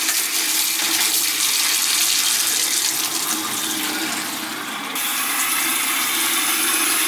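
Water runs steadily from a hot water tap, purging air after the water is turned back on at a beach house, in a continuous broadband rush, close and fairly loud, with a slight shift in tone partway through.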